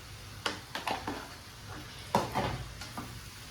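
Spoon stirring fish curry masala with coriander powder in a pan: soft scraping strokes and light clinks over a faint sizzle, close and quiet, no talking.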